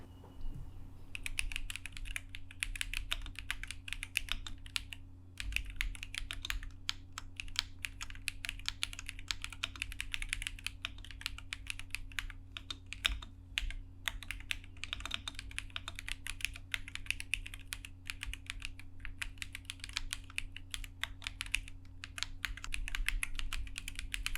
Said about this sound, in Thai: เสียงที่เป็นแบบนี้อ่ะเป็นเสียงของแป้นพิมพ์ หรือเสียงคีย์บอร์ดของคุณน่ะ